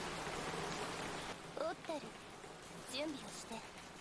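Heavy rain in an anime episode pours as a constant hiss, easing slightly midway while bursts of voices and other sounds break in over it.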